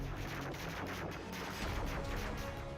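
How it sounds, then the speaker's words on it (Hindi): Dense, continuous crackling and popping bursts overlap into a steady roar, like many fireworks going off together at a distance. "गांव के लोग आतिशबाजी कर रहे हैं"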